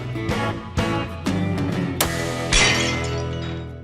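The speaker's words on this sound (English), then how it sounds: "that shattering you hear is his target a beer bottle" A beer bottle shot as a rifle target bursts apart, with a series of sharp glass smashes and clinks in quick succession, the last crash ringing out bright and lingering.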